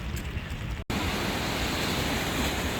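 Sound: rain and sea waves at Haeundae beach, Busan

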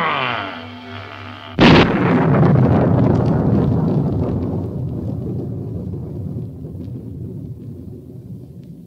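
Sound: explosion in a film scene

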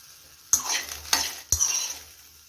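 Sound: green peas being roasted and stirred in a pan

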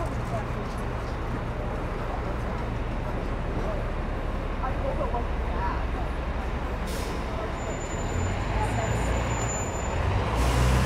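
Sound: city street traffic

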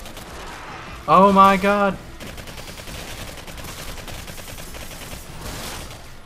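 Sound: gunfire in the video game Singularity

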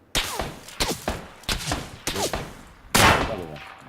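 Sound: gunfire in PUBG video game

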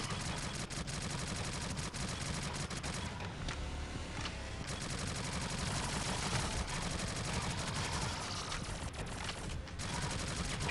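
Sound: gunfire in the video game Shadowgun Legends

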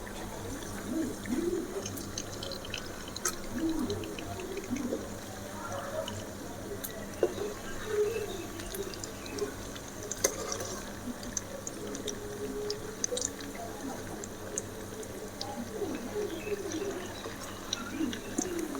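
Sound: meal maker vadai frying in oil

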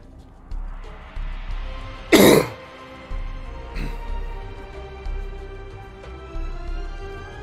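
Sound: throat clearing

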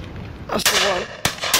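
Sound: shotgun shot at pheasant or partridge shoot

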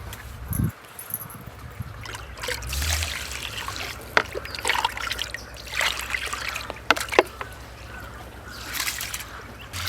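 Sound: washing biryani rice in water

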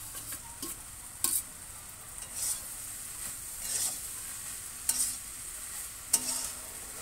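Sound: stirring fried prawns in a pan

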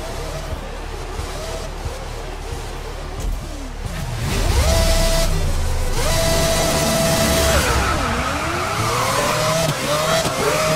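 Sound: race cars starting a race in video game Grid 2019

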